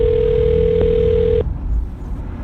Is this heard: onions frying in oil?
no